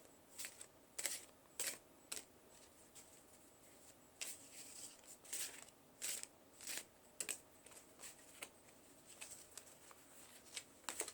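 Tarot cards being shuffled by hand in a quiet room, a run of soft papery riffles and flicks coming in irregular bursts, close and faint with no talking.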